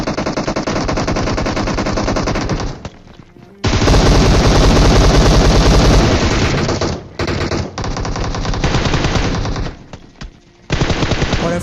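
Automatic gunfire in a battle royale video game fight, long loud bursts of rapid shots with brief gaps between them, dense and close, with no talking.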